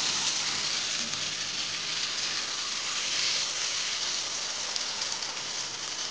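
Duck meat sizzles in a frying pan, a dense, even hiss of crackling fat that stays constant and fairly loud throughout, with no voices.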